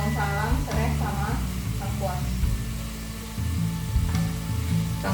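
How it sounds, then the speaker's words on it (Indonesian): Bay leaves, lemongrass and galangal sautéing in a pan, a steady close sizzle with stirring scrapes, while someone talks over the cooking throughout. "tumis dulu sampai wangi, sampai matang"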